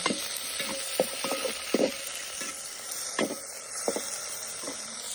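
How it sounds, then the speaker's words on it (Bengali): Chopped onion and green chilies frying in oil in a wok, stirred with irregular scraping strokes over a steady hiss, close and moderately loud with no voices. "তো এখন হচ্ছে কড়াইয়ে তেল দিয়ে দিলাম, তারপর পেঁয়াজ কুচি, কাঁচামরিচ কুচি, ভালোভাবে নাড়তে হবে আমাকে"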